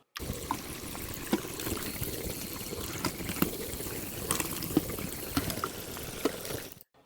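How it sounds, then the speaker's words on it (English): Running water trickling and splashing steadily, with small clinks and knocks throughout, like dishes being rinsed in a sink; a foley sound sample. "this water one, which is called Synth. It's like washing dishes and stuff."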